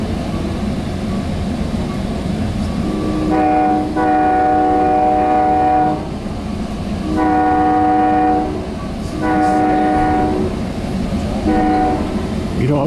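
A Sound Transit Sounder commuter train arriving at Tacoma sounds its horn in several loud, sustained multi-tone blasts over the steady rumble and clatter of the rolling train.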